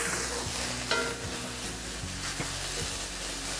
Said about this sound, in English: we're going to give them one more good stir.